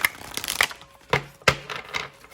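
Tarot cards riffled and tapped in a few quick, crisp bursts, close up, with short pauses between them.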